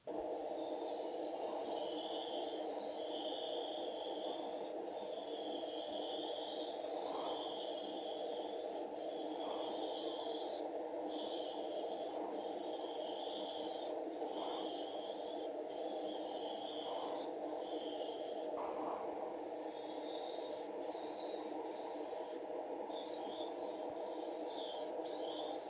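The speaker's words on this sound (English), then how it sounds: "Colors all mixed up, thinned out to flow through my airbrush. So now I'm just going to start spraying again." A steady airbrush hiss sprays thinned paint continuously at close range, broken by brief pauses, over a faint droning hum.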